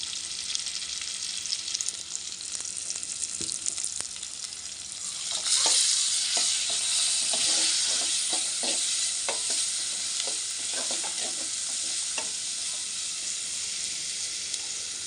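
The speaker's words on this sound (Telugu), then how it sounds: "మనం పసుపు కూడా ఇందులో యాడ్ చేసుకొని మిక్స్ చేసుకోవాలి" Turmeric is stirred into a sizzling chicken curry masala with ginger paste, giving a steady frying hiss with scraping stir strokes that get louder and busier midway, close and continuous with no talking.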